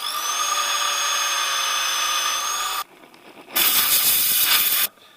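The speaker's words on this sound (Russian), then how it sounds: "Сверлим сверлом." A power drill with a 6.8 mm bit bores a hole to re-tap a stripped M8 thread during Opel/Chevrolet 1.8 L timing belt work, the motor whining steadily, pausing briefly, then running again loudly.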